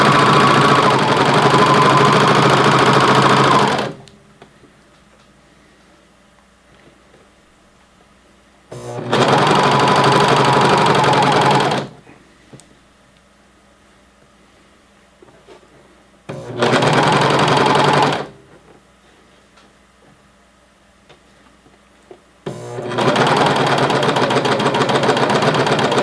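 A sewing machine stitches an elastic waistband in three loud bursts of steady, even running, each several seconds long, separated by near-silent pauses while the fabric is repositioned; the last burst continues to the end.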